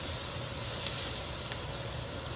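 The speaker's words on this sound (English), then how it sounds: "Oh, this thing is already sizzling." A steady, broadband sizzle hisses continuously as peppered chilli beans with mushrooms fry in a hot pan, close and fairly loud with faint crackles.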